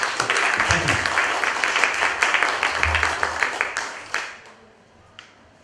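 Audience applause for a community theatre group, a dense, steady crowd clapping that carries for several seconds, then thins and fades away into a few scattered claps near the end.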